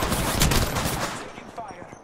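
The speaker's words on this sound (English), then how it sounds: "Listen up, I'm getting shot at." Gunfire in Apex Legends: a dense crackle of rapid shots and bursts, loud at first, then thinning into scattered fainter pops.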